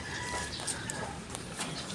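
Rain-soaked fighting roosters and hens make short, soft clucks over steady background noise in a brief stretch with no talk.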